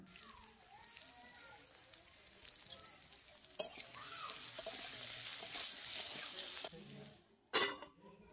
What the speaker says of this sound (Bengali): এবার আলুগুলোকে আমি একটু নুন আর হলুদ দিয়ে একটু নেড়েচেড়ে ভেজে নেব।